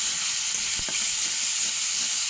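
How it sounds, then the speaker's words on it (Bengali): Ground spice paste sizzles in a hot pan with bay leaves, green chillies, salt and turmeric, a loud steady frying hiss with a couple of brief stirring scrapes, and no voices. "বাটা মশলাটা একটু ভাজা হবে"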